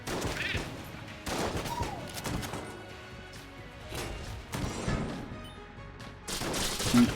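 Gunfire from a modded gun in Enter the Gungeon, repeated bursts of crunchy shots and impacts arriving in clusters roughly every second or two, loud and close.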